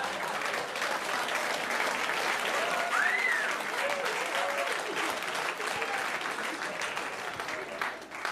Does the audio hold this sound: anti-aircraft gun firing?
no